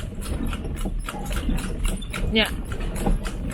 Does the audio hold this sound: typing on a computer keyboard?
no